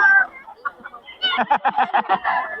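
Chickens cluck in a quick run of short calls, close and fairly loud, after a brief drawn-out call, with no talk over them.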